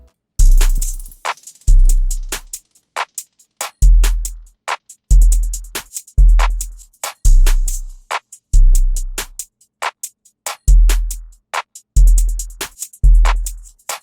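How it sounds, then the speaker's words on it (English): Full drum pattern for an ambient beat built in FL Studio, with heavy booming kicks, crisp snares or claps filling the gaps and busy hi-hats, looping in a steady rhythm, loud and close with no talk. "So altogether, the drums sound like this."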